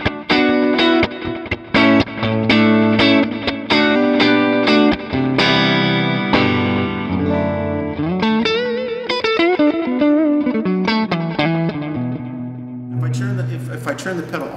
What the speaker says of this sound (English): So just pure, clean amp tone and the Carl Martin engaged.